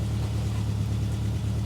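Mitsubishi Evo 8 turbo engine idling with a steady low rumble, close and continuous, no voices.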